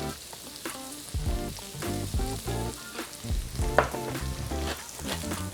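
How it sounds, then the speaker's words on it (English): Potatoes frying in butter and oil in a pan, a steady close sizzle with repeated scraping and stirring clatters over music, no talking. "All right, into the pan with my potatoes."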